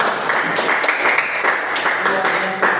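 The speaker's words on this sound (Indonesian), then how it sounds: "terima kasih tepuk tangan" Close classroom applause after a group discussion in a Catholic religion lesson, brisk clapping in loose bursts with a voice speaking over it near the end.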